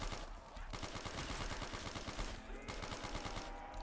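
Sustained automatic fire from an MP40 submachine gun in Black Ops 3 custom zombies, a dense rapid rattle of shots running continuously with a few brief dips, loud and close with game noise underneath.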